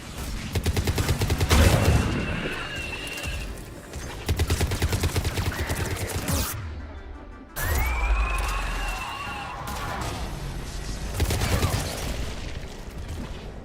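Missile launches and gunfire in the Mass Effect 3 video game, a dense run of rapid shots and loud blasts broken by a brief silent gap, then another swelling burst of fire.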